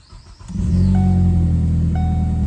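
A 2013 Ford Focus engine, fresh from a transmission actuator swap, cranks and catches at half a second, then settles into a steady, loud, close idle rumble with faint ticking tones above it.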